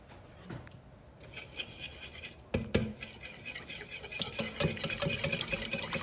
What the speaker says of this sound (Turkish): Ve bu malzemeleri güzelce çırpıyorum.